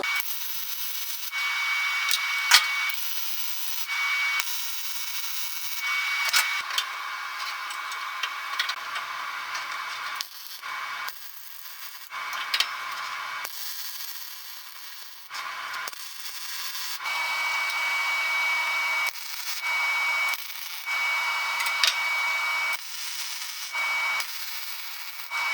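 MIG welding tack welds on metal for floating corner shelves, a harsh, crackling buzz that starts and stops in a series of bursts of a second or several seconds, separated by short quiet gaps, close and loud.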